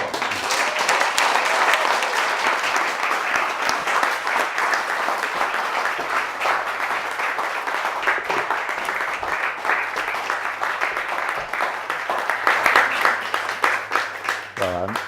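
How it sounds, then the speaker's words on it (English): Audience applause welcoming a new visiting professor of sustainability leadership at a talk, steady, dense clapping from a sizeable crowd sustained throughout, with a faint low hum underneath and a brief voice near the end. "let's give a round of applause to our new visiting professor of sustainability leadership, Richard Little."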